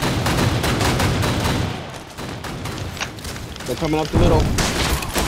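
Gunfire in the PlayStation VR2 shooter D-Day Enhanced during a 50-60 player match: dense rattling bursts and shots fire almost continuously, with a player's voice speaking over the fighting.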